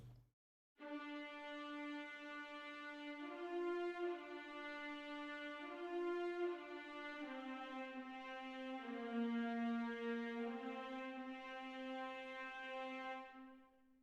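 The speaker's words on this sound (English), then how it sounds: "The third line would be the tenor line, played by the violas." Violas take the tenor line in an epic cinematic string section, bowing long, steady sustained notes that step slowly between pitches, full and alone without any speech.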